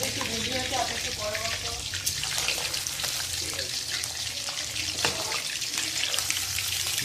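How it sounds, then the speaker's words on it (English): Sliced chicken deep frying for a spicy garlic chicken dish, giving a steady, busy sizzle with scattered crackles and pops throughout, while people talk over it. "We are deep frying the sliced chicken."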